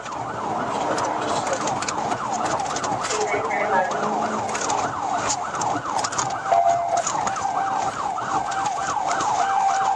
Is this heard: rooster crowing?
no